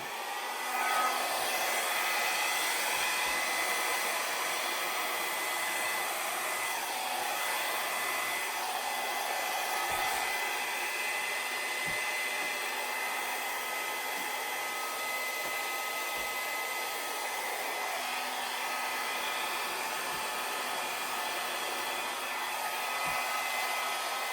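A hair dryer blows steadily and loudly across wet acrylic paint on a Dutch-pour canvas, pushing the edges outward. The airflow roars unbroken for the whole stretch, alone with no voices.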